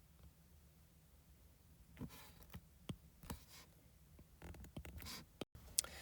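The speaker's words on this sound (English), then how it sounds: "I'll just draw them in the middle right now." Marker strokes drawing graph axes on a board for a sine and cosine lesson, faint and close, a few brief scratchy lines with pauses between them in an otherwise quiet room.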